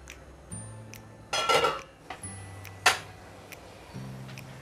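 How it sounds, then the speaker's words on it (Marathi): A lid comes off a pot of modak curry on a gas stove: a brief metallic rattle and clatter, then a second sharp clink, close by with no talking. "झाकण काढते आता।"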